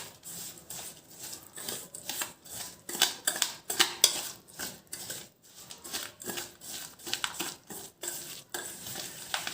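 Milk being mixed into a semolina and jaggery cake batter, rhythmic spoon strokes and scraping against a bowl in regular bursts with occasional metallic clinks, close and alone.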